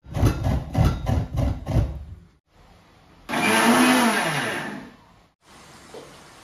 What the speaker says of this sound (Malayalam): ഞാൻ ഈ പൊടി മിക്സിയിൽ ഇട്ടിട്ട് ഒന്ന് പൊടിച്ചെടുത്തു കേട്ടോ